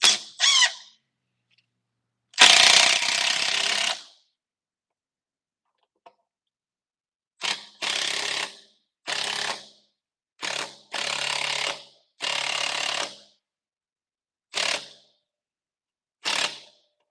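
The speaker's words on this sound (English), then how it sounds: "I call it a rattle gun. Eight-inch timber screw." A 1/2-inch Makita impact wrench drives eight-inch timber screws into pre-drilled wood, firing in loud, close rattling bursts, one long burst then a string of shorter runs separated by silence.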